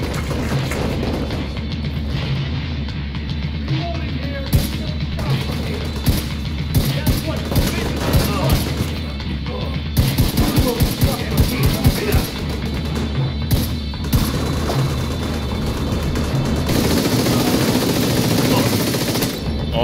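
Explosive-round gunfire in The Division 2, long stretches of rapid automatic shooting with bursts and pauses, steady and loud, mixed with game ambience and occasional talk.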